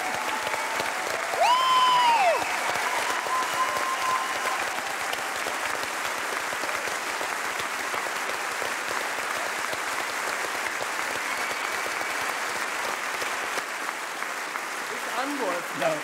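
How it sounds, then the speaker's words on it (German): Sustained, dense applause from a large audience at the German Film Award ceremony, steady and full throughout, with a brief whistle near the start and faint voices underneath. "Lass uns noch ein bisschen klatschen."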